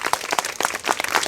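Thin, scattered applause from a small crowd at a hunger-strike protest gathering, a handful of separate hand claps ringing out briefly, fairly close and without talk.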